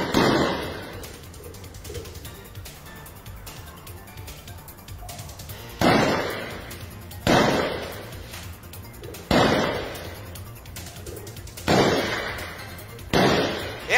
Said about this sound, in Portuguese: Olha aí o som, olha os tiros aí